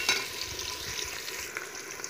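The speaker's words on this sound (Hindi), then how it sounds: "जी दोस्तों, तो हम इनको अच्छे तरीके से भूनेंगे" Chilies frying for a chicken karahi, a continuous moderate sizzle with stirring scrapes and light clatter, no speech.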